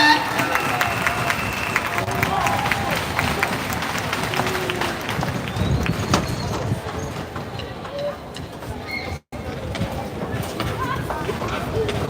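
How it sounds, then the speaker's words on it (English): A large outdoor crowd at a marching band show applauds and cheers for the Mighty Flyers Band, a steady dense roar of clapping and voices that continues throughout with a brief dip near the end. "Give them a round of applause."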